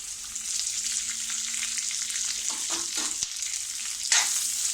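Onion sautéing in a pan for potato bhaji: steady close sizzling and frying hiss throughout, with a few spatula stirring scrapes near the middle and end, no speech.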